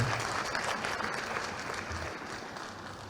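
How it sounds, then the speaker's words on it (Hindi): Steady, dense applause from an audience welcoming guests at a trophy unveiling ceremony for MP Assembly Eminence Awards, continuous and close throughout. "सभी का एक बार फिर से तालियों की गड़गड़ाहट से स्वागत कीजिएगा"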